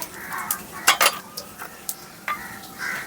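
Bay leaf, dried red chilli and whole cumin hit hot oil for a Bengali fish curry with potato and pointed gourd, giving brief crackles and clinks of a utensil against the pan, close and moderately loud, with no talk.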